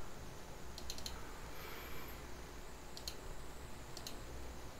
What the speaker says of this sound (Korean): 왼쪽 마우스 클릭해 주시고